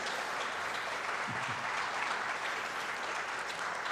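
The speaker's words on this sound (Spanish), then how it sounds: "desde este momento le brindamos un fuerte aplauso" Steady applause from a conference audience, a dense even patter of many hands clapping at moderate distance and fairly low level throughout.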